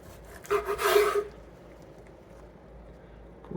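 A knife draws through a juicy smoked Wagyu brisket with one short, close rasping stroke, then the sound settles into quiet room tone.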